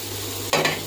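Coriander frying in a pan for taro curry, a soft steady sizzle with a brief stir and clatter partway through, close and alone without talk.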